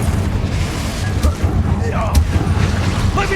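Confringo blast spells go off in the Hogwarts Legacy video game, a series of heavy booming impacts and crackling bursts over a continuous low rumble, amid busy combat noise.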